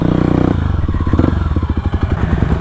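A supermoto motorcycle on a mountain trail near Puncak Upas, Tangkuban Parahu, thumps and revs close by, its engine pulsing and shifting pitch while loose ground clatters underneath.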